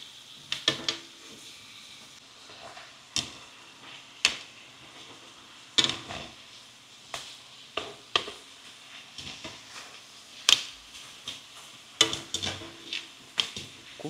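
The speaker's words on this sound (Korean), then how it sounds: "센 불로 양쪽 면을 먼저 구워서 육즙을 가두고 타지 않게 불을 살짝 줄여주시고요" LA galbi beef ribs sear in a frying pan over high heat, a soft sizzle underneath repeated clanks and scrapes of utensils against the pan at irregular intervals.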